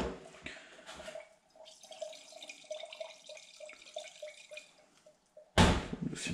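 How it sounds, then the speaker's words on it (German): Crushed propolis covered in wine spirit bubbles and fizzes in its container, a series of small close gurgling pops over about five seconds, ending in a louder sloshing burst. "das blubbert dann immer so schön."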